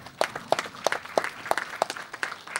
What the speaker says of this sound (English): Please join me for the big applause.